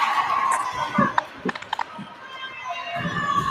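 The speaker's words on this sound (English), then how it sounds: "This audience is getting loud." A volleyball crowd roars and cheers in a gym, a loud mix of shouting and children's voices with a few sharp claps and thumps, swelling again toward the end.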